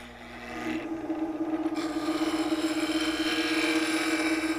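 A roughing gouge rubbing its bevel against spinning wood on a lathe, giving a continuous close rasping scrape over a steady motor hum that grows louder as the cut begins.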